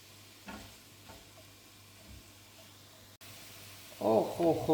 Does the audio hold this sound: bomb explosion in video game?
no